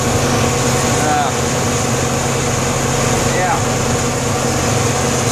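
A tractor runs steadily while a wagon is unloaded at a silage blower, a loud continuous mechanical drone with whining machinery throughout, close and unbroken.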